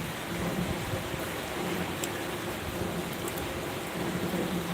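Heavy rain pours steadily during Cyclone Fengal, a dense unbroken roar close by, with a low rumble of thunder running beneath it and no voices.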